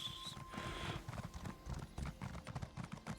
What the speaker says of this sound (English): that's my horse made of like ghost horse, but blood ghost